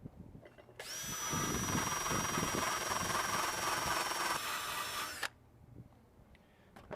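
A power tool grinds paint off the grounding spot on an AC motor, a steady high whine lasting about four and a half seconds that starts and stops abruptly, loud and close with no talking.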